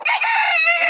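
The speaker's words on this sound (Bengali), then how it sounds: "এটা মোরগ না?" A Turkish Sultan rooster on a small hobby poultry farm crows loudly and close for about a second, one bright, strained, harmonic call heard alone.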